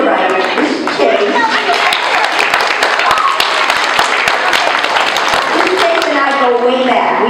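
An audience at a school family night at the Letourneau School applauds in a dense, steady wash of clapping that lasts throughout, with voices and cheering mixed into the crowd noise.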